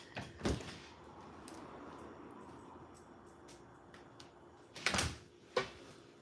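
A house door opens and shuts as a dog goes in and out, with a few sharp knocks and latch clatters spread over a quiet room tone, the loudest pair near the end, no talk.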